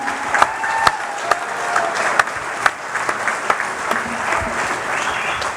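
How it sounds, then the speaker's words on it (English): Sustained audience applause at the New Zealand shearing championships on an evening programme, a dense crowd clapping steadily with a few sharp individual claps standing out, no speech over it. "Big round of applause for David."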